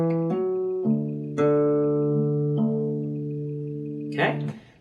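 Electric guitar riff of a song, a few sustained low notes plucked one after another with ringing open strings, each note hanging on until the next, played alone without talk.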